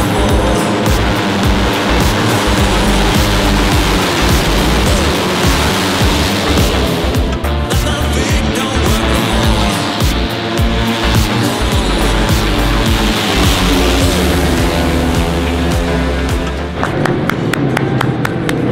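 Motorcycle engines roar loud and continuous at a race start, a dense, close wall of revving and high-pitched whine that barely varies over nearly twenty seconds.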